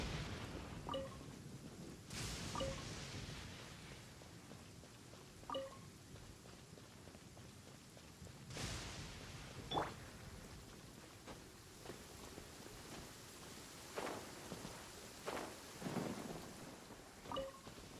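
A thunderstorm rolls through Sumeru in Genshin Impact, with steady rain hissing underneath and several thunder cracks and rumbles breaking out at intervals, all fairly quiet and with no talking.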